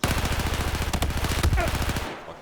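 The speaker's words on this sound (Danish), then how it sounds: "Skud igen." A rapid burst of automatic gunfire from the Battlefield 4 video game rattles in a fast, even string of loud shots that lasts about two seconds and then cuts off, with a few heavier impacts mixed in.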